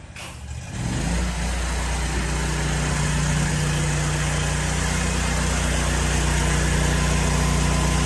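A pressure washer engine starts up and runs at a steady, loud, droning idle close by, with no talking over it.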